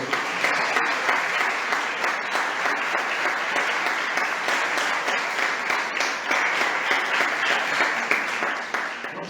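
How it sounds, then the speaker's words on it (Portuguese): A church congregation claps steadily and densely for several seconds, a sustained wash of applause with no pauses. "Aplaude esse Deus maravilhoso."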